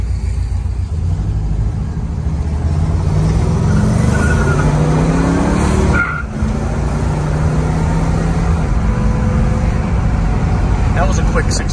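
A 1970 Pontiac GTO accelerates and cruises, its engine a steady low rumble with rising tones as it gains speed to highway pace, heard from inside the car with someone talking over it.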